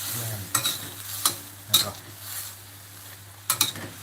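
Water boils in a wok while kaffir lime shoots cook for a Thai curry, giving a steady low bubbling bed with a few sharp clinks and scrapes of a utensil against the pan, close and fairly quiet.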